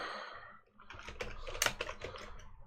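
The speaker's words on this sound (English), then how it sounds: "Let me type it in" Quick, irregular clicks of keys being typed on a computer keyboard, close and fairly quiet, with a short pause near the start.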